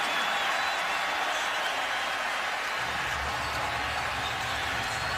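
A home crowd at a Bengals versus 49ers NFL game rumbles and cheers in a broad, steady roar after a hard inside touchdown run, swelling slightly louder toward the end.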